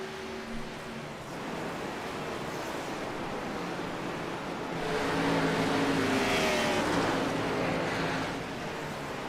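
Stock cars circle a race track in a broadcast, a steady broadband roar of engines and tire noise swelling louder midway as the field passes, with no speech over it.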